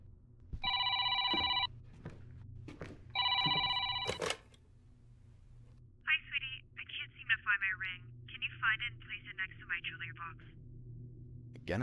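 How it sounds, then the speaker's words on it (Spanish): An old-style telephone bell rings in two loud bursts, each about a second and a half long, followed by a person talking. "Teléfono."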